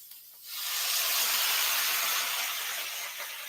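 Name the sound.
water added to hot pan of charred Brussels sprouts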